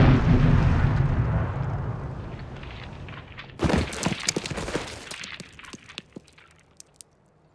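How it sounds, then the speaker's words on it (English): Grenade explosion as a movie sound effect: a deep, heavy rumble that fades, then a sudden sharp crack followed by scattered debris clatter and pops trailing off into quiet. "Grenade!"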